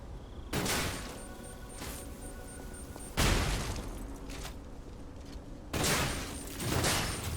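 Gunfire in Lies of P: a weapon's double shot goes off as several sharp, loud blasts spaced a few seconds apart, each with a booming decay over a steady background.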